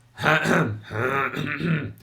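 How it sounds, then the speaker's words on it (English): A person clears their throat several times in quick, forceful bursts, close and loud, with short voiced grunting pulses and no other sounds around. "there is a more efficient way to clear your throat than just doing this"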